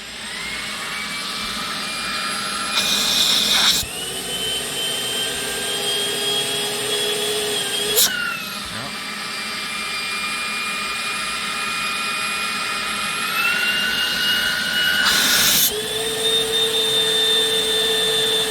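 An LG Cordzero A906 cordless vacuum runs with suction at the end of the wand. A loud, steady high whine shifts pitch several times as the airflow changes, with brief gusty bursts of air.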